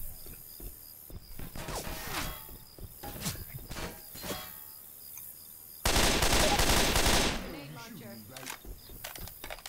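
Gunfire in Left 4 Dead 2, a loud continuous burst of rapid automatic fire in the middle, surrounded by scattered sharp single shots and clatter.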